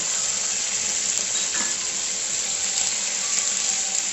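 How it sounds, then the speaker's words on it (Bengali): Hot water poured into a pan of jackfruit and prawn curry sets off a loud, hissing sizzle that holds steady at close range, with faint bubbling and no talk. "দু বাটি জল দিয়ে দিচ্ছি।"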